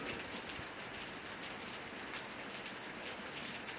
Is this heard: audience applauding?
no